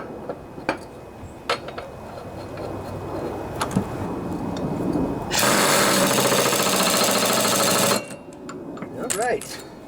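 Metal hammering on a deck bearing of a John Deere LA145 riding lawnmower, sharp scattered strikes followed by a dense burst of rapid blows, with talk and clatter around it.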